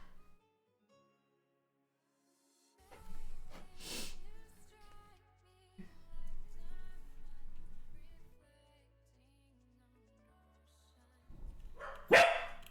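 A dog barks in short bursts near the start and again loudly near the end, with quieter indoor shuffling and handling noises between, close to the microphone.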